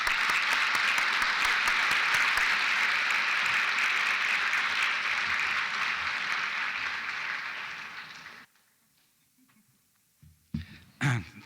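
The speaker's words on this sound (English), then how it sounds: "Let's give these scholars a round of applause." Sustained applause from an audience for award scholars at a college awards ceremony, dense and even for about eight seconds before cutting off, followed by a few faint sounds.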